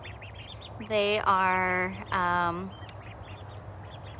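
Young cheese ducks, a pair of fast-growing yellow ducklings, give two loud, drawn-out harmonic quacks close by, separated by a short gap, with a person speaking briefly over the calls.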